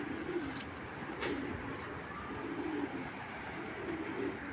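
Racing pigeons coo, including a red check hen, in steady repeated low rounded calls that carry close and fairly loud over a constant background hum, with no talking.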